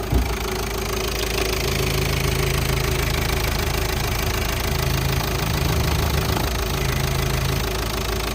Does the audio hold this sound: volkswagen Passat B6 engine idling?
yes